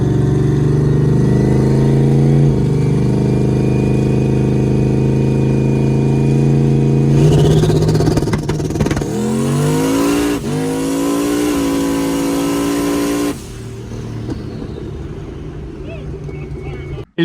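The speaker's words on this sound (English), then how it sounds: "activated my launch control strategy that I use at the track while rolling down the road in second gear at about 55 to 60 miles an hour" A turbocharged roll-racing car launches hard in second gear from about 55 to 60 mph using its track launch-control strategy, the engine note climbing loud and close through a long pull before backing off near the end; speech-like texture sits under the roar.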